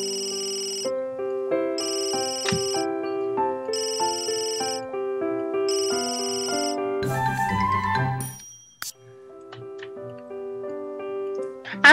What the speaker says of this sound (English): Their freaking phones ring all the time.